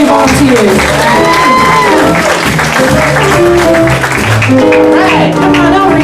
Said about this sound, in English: give it a round of applause for these brave volunteers